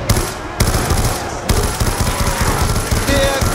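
Gunfire in Call of Duty Black Ops II, Buried map, rapid automatic bursts cracking loudly in close succession with brief pauses between volleys, dense and harsh throughout.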